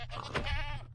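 A Minecraft goat gives one short, nasal, wavering bleat, close and clear and heard on its own, lasting about a second.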